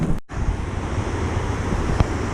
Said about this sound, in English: So all this water is gushing out here, and that's what's all been coming out the pipes.